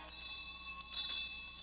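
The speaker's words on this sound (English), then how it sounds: "there goes the bell" A school bell rings at a classroom break, a faint bright tone sustaining with two brief louder bursts, heard alone without voices.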